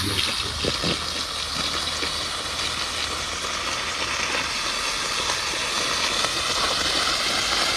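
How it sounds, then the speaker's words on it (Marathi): Steady rushing water flows continuously through a sprinkler pipe on a dill field, a broadband gushing hiss that stays even throughout with no talking. "हे बघा पाणी येते, आवाज यायला लागलेलं आहे"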